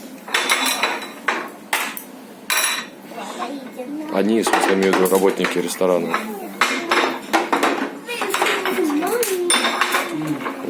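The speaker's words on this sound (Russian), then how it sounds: "Они сейчас промывают посуду в кипятке." Dishes and cutlery clatter and clink repeatedly as restaurant workers rinse tableware in boiling water at a Chinese restaurant, a busy close-up rattling with bursts of activity under ongoing talk.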